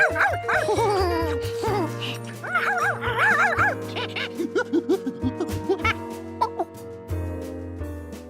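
A cartoon dog from Curious George lets out a quick series of short, yappy barks over background music, with animated voices nearby.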